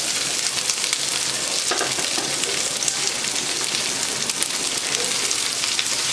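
Garlic cloves and finely chopped onion frying in a pan, a steady close crackle and hiss with light stirring, uninterrupted by speech.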